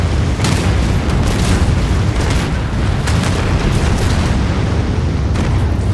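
Missile explosions in the futuristic city-building game Anno 2205 roll out as a dense, continuous barrage of loud booms and bursts, layered over a constant low rumble with no pauses.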